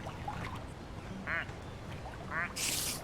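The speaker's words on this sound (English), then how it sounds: "Oh, it's a regular quack." Two short nasal quacks from a plastic duck in Placid Plastic Duck Simulator, a game, sounding like a real duck, moderately close over a faint ambient bed, followed by a brief hissy burst.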